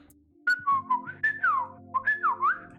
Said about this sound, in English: Do you guys know how to do the loud whistle?